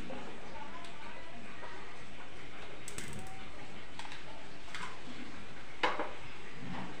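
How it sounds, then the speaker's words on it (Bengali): A metal kadai wok is set down on a gas stove with a few light clanks and one sharper knock near the end, heard under a person talking in a quiet kitchen. "এই যে বসিয়ে দিচ্ছি কড়াই।"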